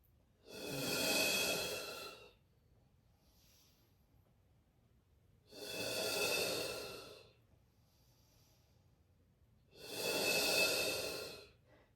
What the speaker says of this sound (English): And easy breaths.